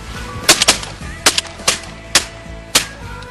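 Shotgun blasts fired at geese during a helicopter-access goose hunt in Manitoba, several sharp loud reports in quick succession, some paired, close to the listener.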